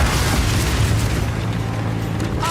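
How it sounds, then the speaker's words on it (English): In Path of Exile 2, incendiary bolts explode in a loud, continuous, rumbling burst that rolls on for a couple of seconds with no voices. "Incendiary bolts."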